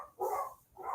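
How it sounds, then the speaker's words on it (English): Two short barks from a dog, a sharp burst followed by a second after a brief pause, fairly close and clear with no talk over them. "The dogs, man. Look, too. You hear him?"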